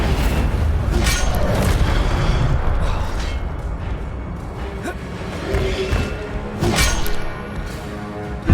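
An Incendio fire spell cast in Hogwarts Legacy, a loud booming burst with a whooshing flare near the start, fading into rumbling game ambience, then a second burst a few seconds later.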